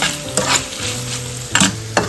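Salt and grated coconut stirred into a frying mixture in a pan: a loud, continuous sizzle broken by a few sharp scrapes of a spoon against the metal.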